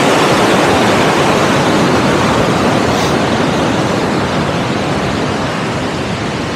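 Rushing, turbulent mountain river near a tall waterfall, a loud, dense, continuous roar of churning water filling the whole clip with no voices.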